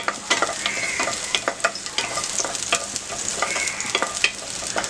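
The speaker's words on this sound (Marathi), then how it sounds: "वीस 30 सेकंड हे सॉटे करून घेऊया।" Green beans sautéing in a spoonful of oil over high gas for Schezwan masala Maggi, a close steady sizzle with rapid clicking stirs and scrapes of the spatula, no talk.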